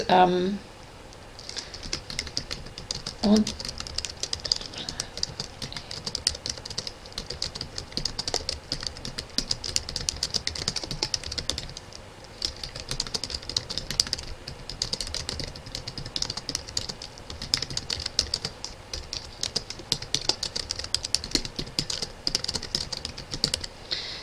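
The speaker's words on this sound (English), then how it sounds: "so we've typed a very short note to say what we've done" Typing on a computer keyboard for a short note, a continuous close patter of quick key clicks with brief pauses, lasting the whole stretch at moderate loudness.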